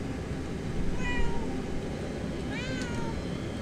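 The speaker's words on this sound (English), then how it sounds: "I like how there's conveniently a cat where I would need a cat." A cat in the video game Murdered: Soul Suspect gives two short, clear meows a moment apart over a steady, noisy game ambience.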